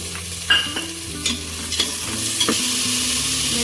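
Peas tipped into a hot pan of frying onions, garlic paste and green chili paste, then stirred, giving a steady sizzle with a few sharp scrapes and clinks of the spoon, close and fairly loud, no talking.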